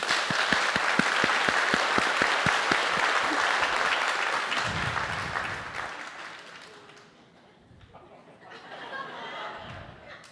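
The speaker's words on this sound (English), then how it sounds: "Let's all worship God with our hands by clapping." A church congregation clapping together in worship, with rhythmic claps at first that blend into dense applause, then fade into scattered chuckles and chatter before a short second burst of clapping.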